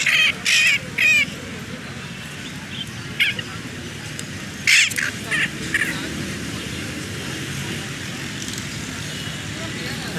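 A male parrot at a busy bird market in Lalukhet, Karachi gives several sharp, loud squawks in short bursts, with more calls midway. Constant crowd and traffic noise underlies them, and people talk nearby.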